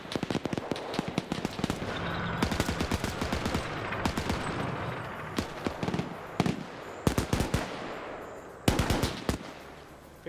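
A .50 cal machine gun firing in a WW2 shooter: repeated heavy bursts of rapid shots spread across the stretch, some loud and close, others softer, over a background of battlefield rumble.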